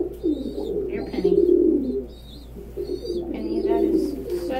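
A pet dove coos close by indoors in soft, rolling phrases, with a person speaking intermittently alongside.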